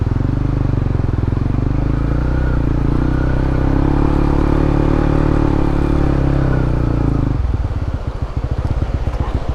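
A motorcycle on a solo touring ride along a riverside road runs with a loud, steady engine drone, then slows near the end into a rougher, clattering idle.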